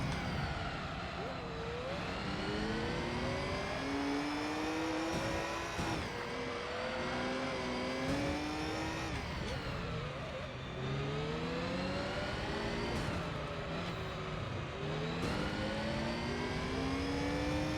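Race car engines in Gran Turismo 3: A-Spec during an endurance race on Special Stage Route, droning and rising through repeated revs and gear shifts, continuous and loud throughout.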